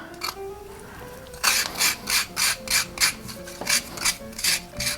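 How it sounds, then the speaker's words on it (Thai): A hand scraper grates a semi-mature coconut, halfway between young and old, in a home kitchen. Steady, rhythmic rasping strokes repeat about twice per second, close and clear, after a few softer scrapes at the start. "เดี๋ยวก็จะขูดมะพร้าวไปเรื่อยๆนะครับ"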